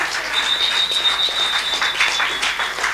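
Steady, close applause from a studio audience on a Nigerian family radio-TV program, a dense patter of hands with no break and no voices over it.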